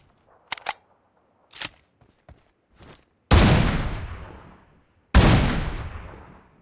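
An AMR sniper rifle in the mobile game BGMI fires two heavy, booming shots a couple of seconds apart, each ringing out in a long decaying tail after a few light mechanical clicks.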